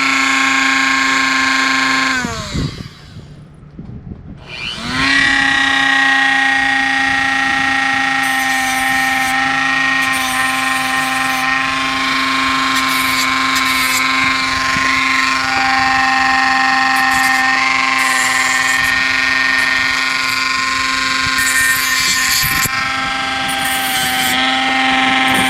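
A Dremel rotary tool fitted with a cutting blade screams in a loud, sustained high-pitched whine close up. It briefly spins down after a couple of seconds, then runs steadily again for over twenty seconds.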